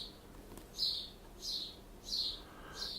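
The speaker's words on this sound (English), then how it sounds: "Hear those birds? They're really chirping." Four short bird chirps, evenly spaced and fairly faint, over a quiet background.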